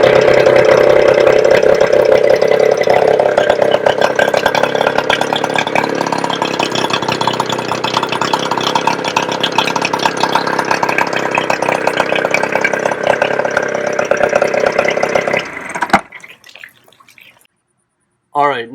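Outboard engine on a 14 ft Starcraft bass boat runs on earmuffs, a steady close drone with a watery trickle that holds for about fifteen seconds and then cuts off abruptly, followed by faint voices.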